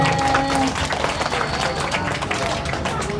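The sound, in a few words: audience applause for a child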